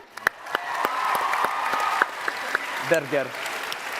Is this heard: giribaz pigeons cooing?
no